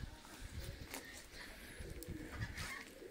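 Pigeons kept together in a loft coo softly and repeatedly at close range, their low throaty calls continuous against faint background noise.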